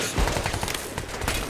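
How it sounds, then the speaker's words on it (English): Gunfire in the Crysis 3 video game, a dense, rapid burst of automatic shots over a noisy, busy game background, brief and continuous. "who the hell is shooting me?"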